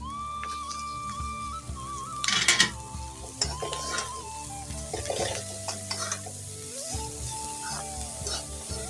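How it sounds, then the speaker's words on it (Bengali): Frying sizzle in a pan with a burst of clattering as greens drop onto fried onions, followed by stirring and utensil scrapes over steady background hum. "পেঁয়াজটা বুঝতেই পারছো ভাজা ভাজা হয়ে গেছে তো আমি শাকটা ঢেলে দেবো"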